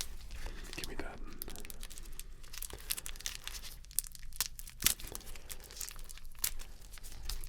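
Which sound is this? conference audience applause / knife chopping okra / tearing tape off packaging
tearing tape off packaging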